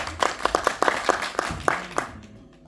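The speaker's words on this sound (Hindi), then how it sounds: "उनके लिए जोरदार तालियां होंगी।" Audience applause for presenters at a cultural orientation course presentation, a short burst of scattered claps that fades out quickly after about two seconds.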